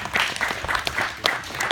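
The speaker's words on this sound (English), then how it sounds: "Big round of applause." Brief, fairly faint applause from a small audience at a startup pitch event, scattered individual claps audible within a thin round of clapping.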